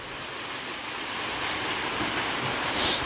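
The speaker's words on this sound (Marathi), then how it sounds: "हा वारा आला वारा आला." Wind gusts during monsoon rain in a rural yard, a steady rushing whoosh that swells and grows louder toward the end, with no speech.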